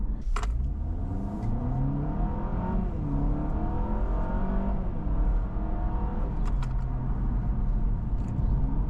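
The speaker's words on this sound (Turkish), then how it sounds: "Gazlayınca güzel bir ses çıkıyor." A Honda Prelude engine accelerates, its tone rising and falling through revs at steady, fairly loud level, with a brief faint click or two and no talk.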